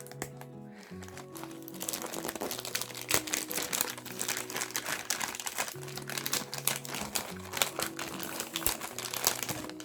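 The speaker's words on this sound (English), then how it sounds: "The paper is, the sticky tape is just coming off the paper so cleanly" Sticky tape peels off paper gift wrapping with a close, continuous crackle and crinkle over a steady low hum, the rustle rising and falling in dense bursts.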